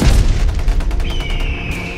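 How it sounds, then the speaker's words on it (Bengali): Gunshots ring out among hills: a heavy boom at the start rolls away in a long, rumbling echo, loud and dramatic, followed by a thin sustained tone and no talking. "কেবল মাঝে মাঝে যখন গুলির শব্দ পাহাড়ে প্রতিধ্বনিত হয়"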